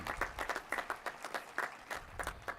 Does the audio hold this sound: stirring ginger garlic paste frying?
no